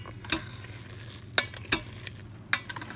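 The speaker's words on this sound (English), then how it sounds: "Let's give it a good stir." Millet and sweet potato pudding being stirred in an Instant Pot, a few separate scraping clicks of a spoon against the metal pot over a low steady hum, close and quiet, with no talking.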